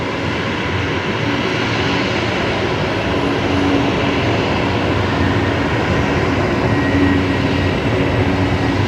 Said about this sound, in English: I reckon Big Kev's about to receive that aircraft onto Bay 50 Alpha.